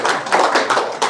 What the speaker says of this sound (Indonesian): Tepuk tangan dulu buat yang ada di sini dong.